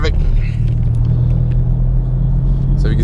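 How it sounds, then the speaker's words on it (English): Freeway traffic rolling past as a steady low rumble of cars, close and continuous, with a voice talking over it at the start and end. "sorry, looking at traffic"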